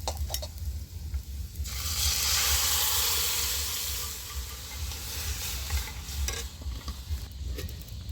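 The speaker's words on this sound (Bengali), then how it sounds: "এবার ডালটা আমি ঢেলে দিচ্ছি এর মধ্যে।" Horse gram dal poured into a pan of fried onions gives a sudden loud sizzle and hiss that gradually settles into steady bubbling frying with occasional stirring clinks.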